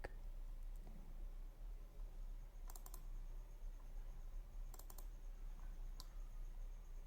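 Mouse clicks while working in Clo 3D garment software, a few short sharp clicks in small clusters over a quiet low hum, with no talk.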